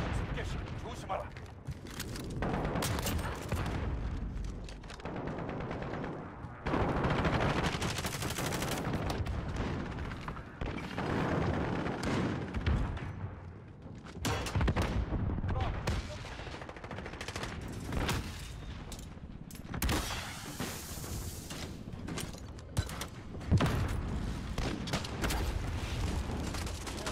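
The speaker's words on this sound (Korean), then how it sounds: "아군 정면 공습 개시. 조심하라." Airstrike blasts and bursts of gunfire from ground combat in Call of Duty: Modern Warfare, with dense, repeated rattling shots and heavy booms running throughout at a steady, loud level.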